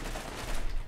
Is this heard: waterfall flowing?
no